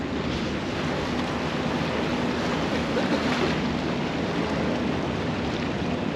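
Strong wind blowing by the water in Hong Kong, a steady loud roar of gusts and buffeting against the microphone with surf-like rushing throughout, no voices.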